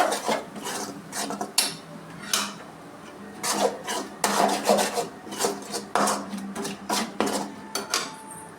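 Pasta being stirred in a pan over low heat, with repeated scraping and rasping strokes of a utensil against the pan bottom, close and fairly loud, in irregular bursts with short pauses.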